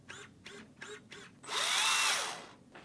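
A 1/18-scale brushless RC oval late-model race car, likely on dirt-suited tires, gives several short high-pitched motor whirs in quick succession, then a longer, louder full-throttle whine that rises and fades, close by with no talking.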